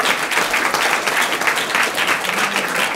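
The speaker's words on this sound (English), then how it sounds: "I want a big round of applause." A chamber of commerce audience applauds the visiting mayors at a community event, a full steady round of clapping that stays loud and even throughout.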